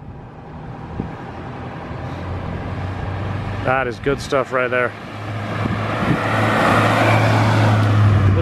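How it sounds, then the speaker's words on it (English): A Honda Civic EP3 with a K24A2 engine and a new exhaust hums steadily close by, with VTEC changeover, and the engine note swells louder toward the end. Someone talks briefly over it partway through. "Sounds like a Honda. It's got that VTEC changeover."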